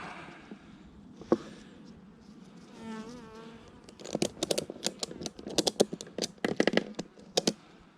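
Honey bees hum around an opened hive during an inspection, a faint drone with a brief rising buzz, followed by a rapid run of sharp clicks and taps from hive handling.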